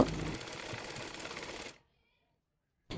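A sewing machine runs a fast, even stitching buzz while sewing a salwar with lace, continuous for under two seconds before cutting to silence, then briefly resuming.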